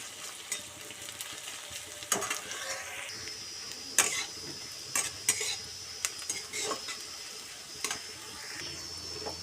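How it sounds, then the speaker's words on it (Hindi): Onions fry and sizzle in a pan while a utensil stirs them, with sharp scraping clinks recurring irregularly over a soft continuous sizzle, close and fairly quiet. "प्याज को किसी समय भाजवा गोल्डन ब्राउन होला पर्यंत।"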